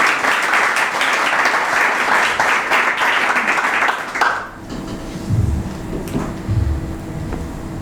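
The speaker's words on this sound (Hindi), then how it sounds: "आइए खुदावंद के लिए जोरदार ताली।" A church congregation at a Sunday sermon breaks into loud, vigorous applause that fills the room for about four seconds, then cuts off sharply, leaving quiet room tone and faint low murmuring.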